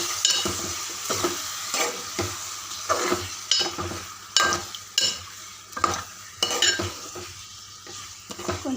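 Chicken pieces frying with ginger garlic paste in a pan, stirred repeatedly, giving a steady sizzle broken by regular scraping and clinking strokes of a utensil against the pot, close and fairly loud with no talk.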